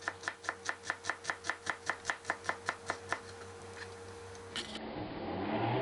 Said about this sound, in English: When you chop the shallots, take care and make them nice and even.